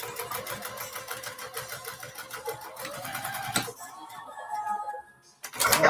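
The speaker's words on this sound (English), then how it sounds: "I'm going to go ahead and get these seams stitched up for my brim" A sewing machine stitches the seams of a bucket hat brim in a steady, rapid mechanical run for several seconds, then stops with a sharp click and a brief pause before starting again.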